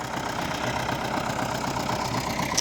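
An MTZ-80 tractor ploughing snow-dusted ground, its diesel engine chugging steadily and loudly up close with a dense, even mechanical rumble and no voices.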